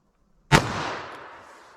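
A single .22 Magnum (WMR) rimfire round fired outdoors, one sharp, loud crack followed by a long, fading echo tail.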